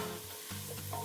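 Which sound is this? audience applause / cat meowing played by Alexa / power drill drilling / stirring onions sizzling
stirring onions sizzling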